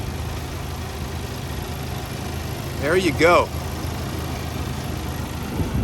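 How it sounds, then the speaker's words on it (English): A turbocharged sedan's engine idles with a steady low rumble close by, while someone briefly speaks over it midway. "look how clean this motor is, and it sounds good too"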